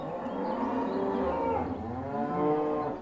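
A cow in a farmyard stable gives a long, loud, drawn-out moo that runs for about three seconds with a rising swell near the end, heard alone and close up.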